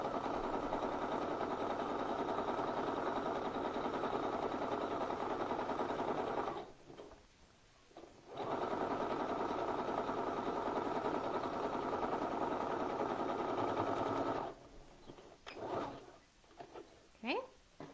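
A sewing machine runs steadily while stitching a garment seam, a continuous mid-pitched whir that stops briefly, resumes, then gives way to short bursts and a few voiced sounds near the end.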